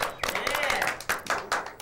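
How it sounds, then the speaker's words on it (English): Show audience claps in a brief round of applause, sharp individual hand claps standing out over the crowd, with a voice talking over it. "give a round of applause."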